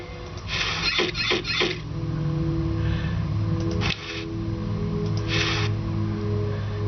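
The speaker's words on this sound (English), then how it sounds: "But we now have a squeaky mouse, which we can send to Laverne" Several short bursts of squeaking from a mouse in the video game Day of the Tentacle Remastered: a quick cluster early on, then single squeaks later, all over a soft, steady musical background.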